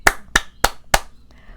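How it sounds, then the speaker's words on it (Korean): Four sharp hand claps in quick, evenly spaced succession, close and crisp, followed by a faint trailing sound. "박수."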